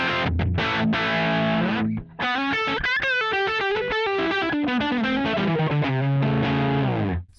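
Distorted electric guitar played through a Schmirler RC-20 amplifier with the mid control turned almost all the way up, a loud, snarling riff of sustained chords and single notes that breaks off briefly near two seconds.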